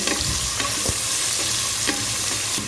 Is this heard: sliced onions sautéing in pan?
yes